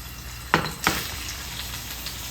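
Chicken sizzles and crackles steadily in a hot pan with olive oil, with two sharper bursts near the start as something is stirred or added; close and fairly quiet.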